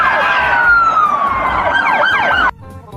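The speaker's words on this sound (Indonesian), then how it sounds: "kalau yang ini mobil polisi Fortune" Wailing siren of a toy police car, loud and close, rising and falling for a few seconds before cutting off abruptly, leaving a lower background hum.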